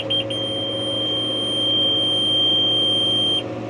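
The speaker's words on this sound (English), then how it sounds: "noisy, isn't it? He's busy combining." A combine harvester works a hay field in August, giving a steady, loud mechanical drone with a high whining tone running throughout, with no speech.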